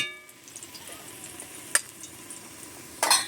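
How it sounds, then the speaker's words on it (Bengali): Oil being stirred in a wok while cooking eggs, a faint scraping stir with two brief louder clatters near the middle and end, no talking. "এপাশে কড়াইয়ে তেল দিয়ে দিয়েছিলাম, তেলটাকে একটু নাড়ি চাড়ি নিচ্ছি।"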